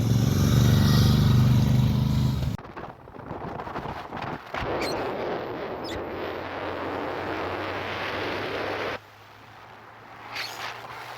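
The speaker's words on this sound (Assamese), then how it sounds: "এইবোৰে আমাৰ বাইক, ডমিনাৰ 400, এক্সট্ৰিম 125, যোনটো মই চলাই আছোঁ" Motorcycles, including a Dominar 400, Xtreme 125 and Royal Enfield bikes, ride along a mountain road toward Tawang, with loud engine and wind rumble up close, then a steadier drone and a quieter stretch near the end.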